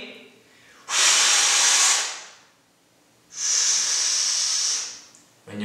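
Two long, loud exhalations during a dumbbell bent-over row, each a broad airy hiss lasting about a second, separated by a quiet pause, with a third breath just starting at the end.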